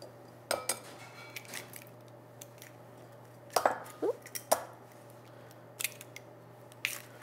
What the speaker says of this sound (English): I'm going to start by just combining my wet ingredients. So that's the yogurt, and then the eggs